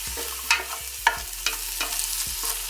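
Garlic and onion fry over a high flame with a steady low sizzle, punctuated by several spaced scrapes of a spoon stirring the pan, close and moderately quiet, without any voices.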